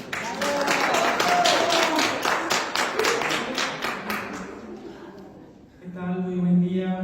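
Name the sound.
applause welcoming a speaker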